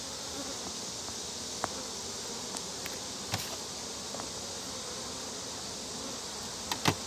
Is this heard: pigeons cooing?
no